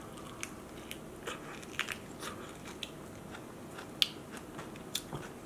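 Someone eats seasoned koppe crab eggs, the small roe of a female snow crab, dipped in sashimi soy sauce, with soft intermittent crunches and wet chewing clicks close to the mic over quiet background noise.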